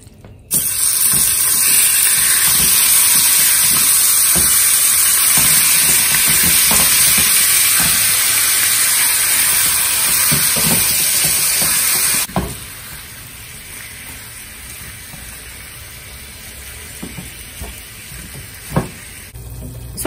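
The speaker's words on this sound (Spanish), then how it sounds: "En un sartén agrego aceite y la carne que hayas elegido" Meat seasoned with soy salt fries loudly in oil in a skillet, a dense close sizzle that drops off sharply partway through to quieter pan sounds and a single knock.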